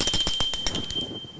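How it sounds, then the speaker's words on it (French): Small bells shaken by hand during a church children's Christmas program ring close and bright in about ten quick rhythmic jingles, with the ringing thinning out toward the end. "Chantez en agitant des cloches"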